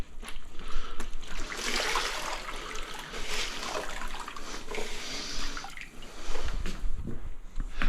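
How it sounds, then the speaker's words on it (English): Grout sponge rinsed and squeezed in a bucket of water while grouting tiles with ordinary white grout, giving a steady close-up wash of sloshing and trickling water that rises and falls throughout, with no talking. "A rinse out of my sponge."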